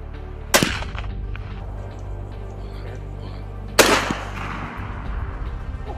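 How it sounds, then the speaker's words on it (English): Two sharp gunshots ring out about three seconds apart in a misty jungle, each a loud crack with a brief trailing echo over a low, steady rumble. "The gunshots rang out, piercing through the misty jungle."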